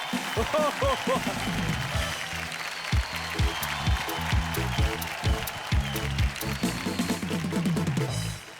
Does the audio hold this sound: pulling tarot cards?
no